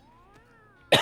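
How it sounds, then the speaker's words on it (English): A single sharp cough bursts out close and loud at the end, after a faint, wavering high tone like a meow from a Mewgenics game sounds quietly in the background. "Still trying to kick this cough."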